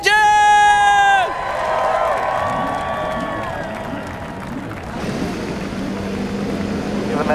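At the 2018 Firestone Grand Prix of St. Petersburg, a loud sustained tone first carries a voice over a crowd, then IndyCar race car engines fire up and rumble as a dense roar alongside the cheering crowd.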